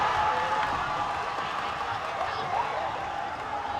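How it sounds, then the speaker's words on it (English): Basketball crowd at a boys' high school game, a steady dense roar of cheering and shouting in a gym, loud and continuous throughout. "And the crowd's going nuts"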